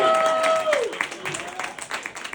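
Applause from a comedy club audience for a stand-up comedian's six years sober, a close crowd clapping steadily under the comedian's speaking voice, which rises over it before the clapping thins out.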